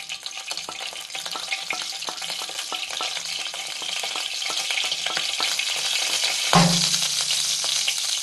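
Mustard seeds temper in hot oil for a Kerala pumpkin and red cowpea curry, giving a dense, steady sizzle and crackle, with a single dull thump near the end and no voices.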